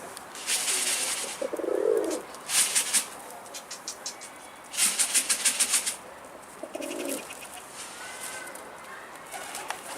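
Pigeons at an outdoor coop coo in several bursts, fairly close and loud, with softer chirps and a brief wing flutter between the calls.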